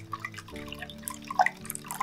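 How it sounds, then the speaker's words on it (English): Water is poured slowly into a bowl of smooth yogurt, giving faint close drips and small liquid splashes that come and go over a soft background hum. "I'm slowly gonna add 2 cups of water to it"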